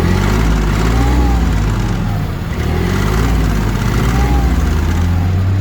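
A modernized Hinomoto CX16 Japanese mini tractor runs just after starting, its engine throbbing loud and steady with a low pulsing rhythm and faint tonal whine, with a car audible nearby.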